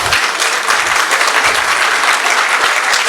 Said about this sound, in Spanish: no es el aplauso es para Paulo Pantigoso, por supuesto, que es el generoso